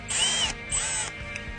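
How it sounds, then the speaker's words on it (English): Close-up bursts of a chamfer tool cutting a chamfer around a stripped thread hole, two short loud whirring passes with a brief final touch, no talking. "Use the chamfer tool to cut a chamfer around our hole."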